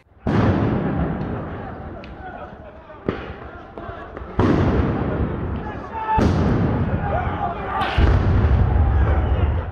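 A string of loud, sharp stun grenade blasts goes off one after another at a street protest, each followed by a rumbling decay, with crowd noise and shouting underneath.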